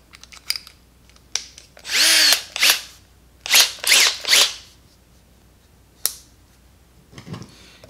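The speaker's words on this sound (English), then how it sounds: "hammer drill and try the hammer function." Milwaukee M18 cordless hammer drill in hammer mode boring into masonry or rock with a concrete bit, several loud close bursts of whirring, rattling drilling separated by pauses and a few short trigger taps.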